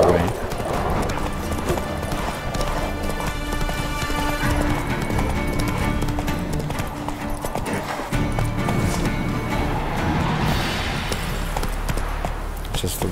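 A horse gallops in The Witcher 3 video game, its hooves making continuous rhythmic clip-clop beats with an occasional whinny amid game music and effects, while someone talks over it.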